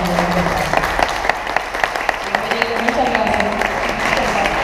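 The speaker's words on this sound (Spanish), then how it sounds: "Un fuerte aplauso para él." An audience applauds a mountaineering talk, the clapping moderate and somewhat distant, with sharper individual claps standing out and voices murmuring underneath.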